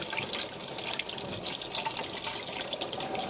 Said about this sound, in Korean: 두부는 이렇게 포장을 뜯으셔서 흐르는 물에 깨끗이 씻어 주시고요.